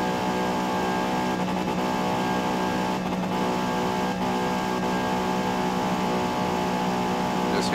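A pony car engine in Forza Motorsport holds a steady, high-pitched wail at near-peak revs along a straightaway, loud and sustained with only slight wavers.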